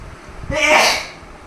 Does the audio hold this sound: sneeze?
yes